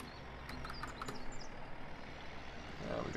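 A Fendt tractor in Farming Simulator 17 pulls an old, worn 6-meter Liborto cultivator through a field, its engine giving a steady low drone with some faint rattling on top.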